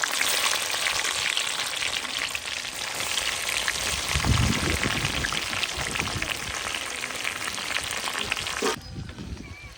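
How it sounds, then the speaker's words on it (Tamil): Hot oil sizzles and crackles loudly and continuously as spices fry for tempering fish curry, a dense hiss that cuts off abruptly near the end. "சட்டி காஞ்சிட்டு தாளிக்கிறதுக்கு எண்ணெய் ஊற்றிக்கலாம்."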